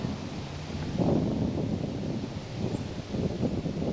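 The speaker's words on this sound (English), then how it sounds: "It really comes ripping in through that tunnel off the field there." Wind gusts across an outdoor disc golf course, funneling through a tree tunnel off a field, with a continuous broadband rush and swelling gusts that roar against the microphone for several seconds.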